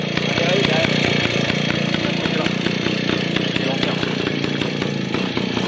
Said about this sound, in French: Qui c'est qui a une moto qui tourne?